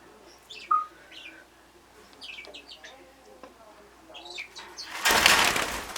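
A flock of pet birds chirp and tweet indoors, then a sudden loud burst of wingbeats as several take off and flutter around at close range.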